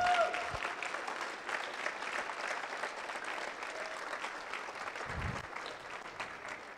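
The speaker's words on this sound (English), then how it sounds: "Give her another round of applause." An audience applauds a woman at a Squash Canada squash event, steady moderate clapping throughout with light crowd murmur and a soft voice underneath.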